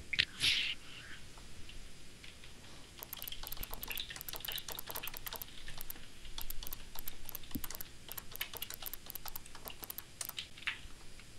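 Rapid clicking keystrokes on an American-layout computer keyboard, a steady close typing patter in bursts that runs for about ten seconds, no voices.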